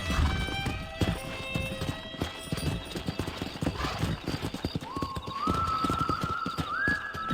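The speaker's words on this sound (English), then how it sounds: "That ranch hand said there's a pack of wild horses nearby." Hooves of galloping horses in the Red Dead Redemption video game, a rapid clip-clop rhythm with whinnies, a whistle and rising tonal music over the top, moderately loud throughout.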